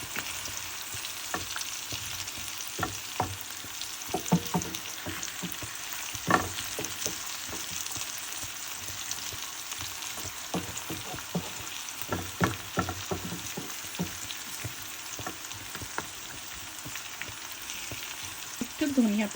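Onions sizzle steadily in oil over a low gas flame while hilsa fish fries, with scattered stirring scrapes and clicks over a continuous soft hiss.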